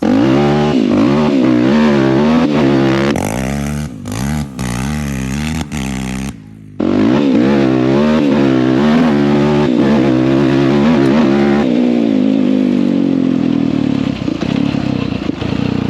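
A Yamaha YFZ450 quad with a jetted carburetor is ridden hard, its engine loud and close, revving up and down through gear changes with one brief drop-off before roaring on steadily.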